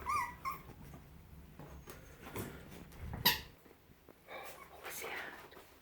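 Cairn terrier mother dog whimpering at a door, thin high squeaky whines rising briefly amid household noise and soft background voices.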